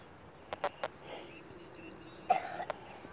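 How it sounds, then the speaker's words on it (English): A few short, sharp coughs from a child at a park in the evening, spaced irregularly, followed by a pause and another small burst of coughing, fairly close and moderately loud. "He's coughing again."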